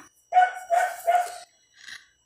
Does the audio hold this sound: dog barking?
yes